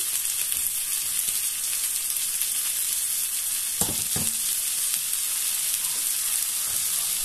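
Onion sizzling and frying in a pan makes a steady close hiss and crackle, with a couple of brief clinks or stirring knocks partway through, and no voices.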